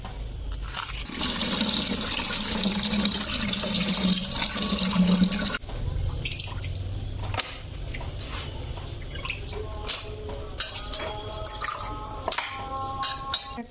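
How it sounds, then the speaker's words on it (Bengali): Mutton pieces are washed under running water, a continuous loud gush and splash that shifts partway through to sloshing and dripping with small clinks of the meat and bowl, close and without speech. "আমি গোশগুলোকে ভালোভাবে ধুয়ে নিব।"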